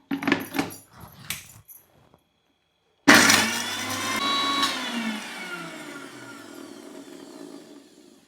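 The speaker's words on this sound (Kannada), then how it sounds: "ಶುಂಠಿ ಬೆಳ್ಳುಳ್ಳಿ ಬೊಕ್ಕ ಕಾಯಿ ಮುಂಚಿನ ಒಂಜಿ ಮಿಕ್ಸಿ ಪಾರ್ದು ಸಣ್ಣ ಮಲ್ಪೆರೆಗುಂಡು" A few short clatters lead into a pause, then a kitchen mixer grinder starts abruptly and runs loud and close, grinding ginger, garlic and coconut with a whining motor that slowly eases off.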